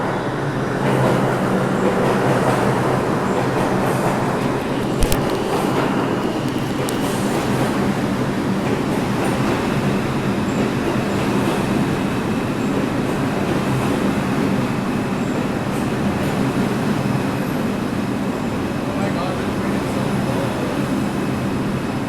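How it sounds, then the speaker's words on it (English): A New York City subway downtown express train pulls in, a loud continuous rumble and rail roar with clattering wheels and a brief sharp clank, steady and close throughout. "Okay, the train is here."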